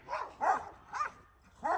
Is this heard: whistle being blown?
no